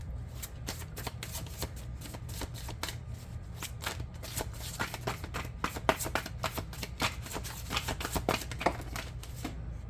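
Tarot cards are shuffled by hand up close, giving a steady run of crisp riffling flicks and slaps for about ten seconds with no talking.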